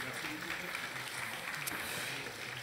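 An audience at a cooking demonstration applauds two chefs, a faint, steady patter of many hands clapping without a break.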